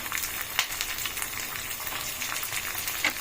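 Peanuts fry in hot oil for mango pulihora, making a continuous crackling sizzle with small pops scattered through it, moderately loud and steady, with no talking.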